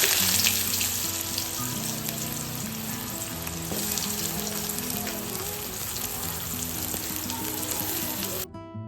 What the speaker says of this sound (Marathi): कढईत 2 चमचे तेल आणि मग ते तेलात कांदा अगदी सोनेरी